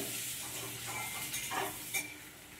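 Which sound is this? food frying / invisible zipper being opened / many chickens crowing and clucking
food frying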